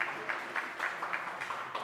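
Light, scattered clapping from a church audience during a carol concert, soft and somewhat distant, with faint pulses of rhythmic claps along with music.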